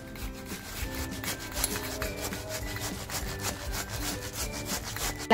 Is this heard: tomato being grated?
yes